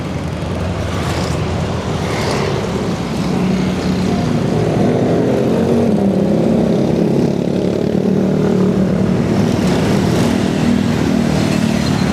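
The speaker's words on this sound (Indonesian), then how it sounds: "motor Harley tuh" A Harley-Davidson motorcycle engine rumbling past near a bridge construction site over a waterway, a loud, steady, low throbbing roar that stays close throughout without fading.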